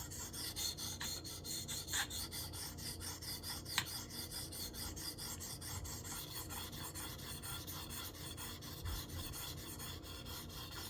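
Knife blade being sharpened on a KME guided sharpener to remove marker ink from the bevel, a quiet, steady series of rhythmic rasping strokes up close, with no voices.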